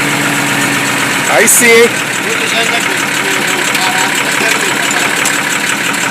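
A Chevrolet D60 truck's engine, running again after sitting for four years and held back by a starter motor problem, idles loudly and steadily with one brief rev, while someone speaks over it.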